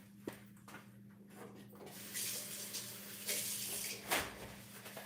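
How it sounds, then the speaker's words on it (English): Hands being washed under a running kitchen tap: a steady, close stream of water that grows louder and splashier as the hands move through it, with a low hum beneath and no talk. "let me wash my hands"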